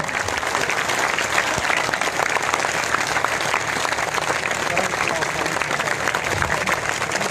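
At an outdoor political gathering in Banaskantha, Gujarat, a mass of people keeps up sustained, vigorous clapping, loud and unbroken, with crowd voices audible under the applause.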